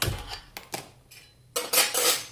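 A metal griddle (tava) set down on a home gas stove with a few sharp clanks and scrapes, then a louder, longer clatter of metal near the end.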